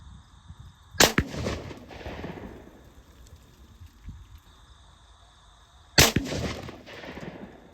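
Two loud, sharp rifle shots from a Weatherby Vanguard in .257 Weatherby Magnum, spaced about five seconds apart, each with a rolling echo trailing off over quiet outdoor background with faint insect noise.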